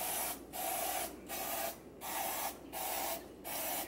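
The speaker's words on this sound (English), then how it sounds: "I didn't spray this yet." A baking vessel being sprayed with cooking spray before shaping bread rolls: five short hissing bursts in a steady rhythm with brief pauses between, close and fairly quiet.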